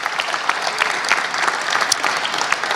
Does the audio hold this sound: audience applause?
yes